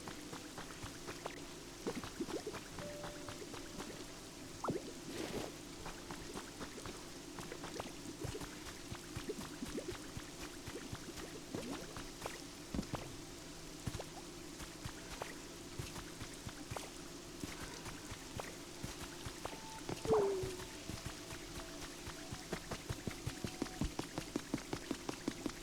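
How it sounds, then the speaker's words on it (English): Steady in-game rain patters throughout a stretch of Pokopia, a dense hiss of drops with scattered sharper taps on surfaces, with no talk over it. "It was getting very rainy."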